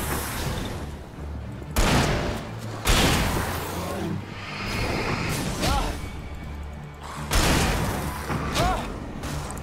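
Gunfire from the video game Alan Wake, including shotgun blasts: several loud, sharp bursts at irregular intervals over a dense game soundscape, with a voice speaking throughout.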